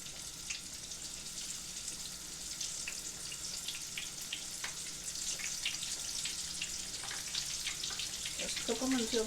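A chicken wing dropped into hot frying oil gives a soft, steady sizzle with scattered crackles and pops. The sound is fairly quiet and builds slightly toward the end.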